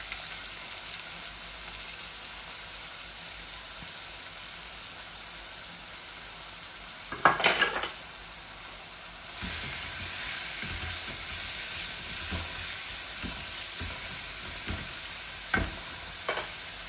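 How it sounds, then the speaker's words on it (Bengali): Garlic and onion frying in a pan as they are stirred, a continuous close sizzle with occasional spoon scrapes and clatter, a louder burst midway when the onions go in, no talk. "শাকর রসুন লাল হয়ে গেছে, এখন পেঁয়াজ দিয়া।"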